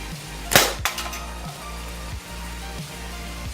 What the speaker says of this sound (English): let's go ahead and load this thing up in our slingshot here and shoot it at that can